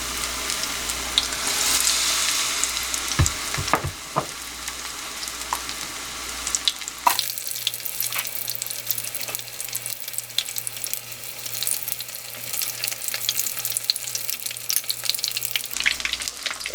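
Steady hiss of shrimp deep frying in hot oil, with clinks and a running-water burst partway through, then a denser crackling sizzle continuing to the end.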